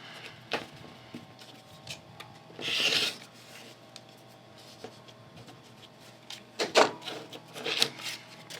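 Rotary cutter trimming quilt fabric pieces for a Dear Jane block: quiet rasping, rubbing strokes with a few sharper scraping bursts around three and seven seconds, close and otherwise soft.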